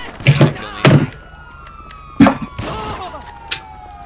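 Police car siren in GTA 5 gameplay, a long wailing tone gliding slowly downward through the clip, heard behind excited shouting from players and some thumps.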